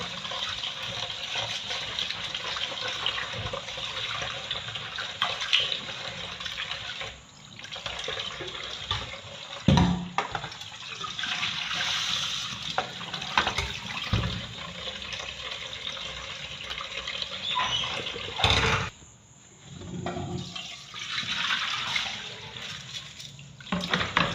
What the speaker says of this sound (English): I'll wash it until the water is clear.